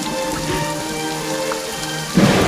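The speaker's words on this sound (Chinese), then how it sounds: "下雨了" Rain falls steadily in a soft, constant patter for a couple of seconds, with a brief louder thump near the end.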